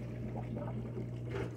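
Water overflowing and draining from household plumbing in a kitchen, a low steady trickle and gurgle under a constant hum, faint and continuous for a brief moment.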